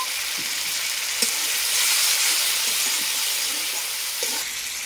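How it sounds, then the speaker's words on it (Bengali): Ginger paste and a splash of water hitting frying tomatoes in a pan, producing a loud continuous hiss and sizzle that swells briefly, with a few soft stirring taps. "এরপরে দিয়ে দেব আদা বাটা, সামান্য একটু জল দিয়ে দেব।"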